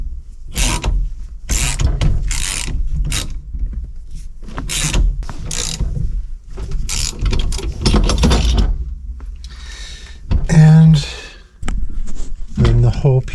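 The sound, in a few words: ratchet tightening steering column bolt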